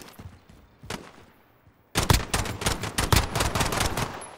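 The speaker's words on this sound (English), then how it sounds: "He tried to shoot you off there." Gunfire in the video game Warzone: a few scattered distant shots, then a dense, loud burst of rapid automatic fire that keeps going to the end, with no talking.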